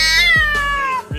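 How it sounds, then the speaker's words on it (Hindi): An angry cat yowls loudly in one long, wavering, falling cry, close and harsh, with a brief break near the end. "बिल्ली को बहुत ज्यादा गुस्सा आता है और वह अपने गुस्से को काबू नहीं कर पाती और जोर जोर से चिल्लाने लगती है"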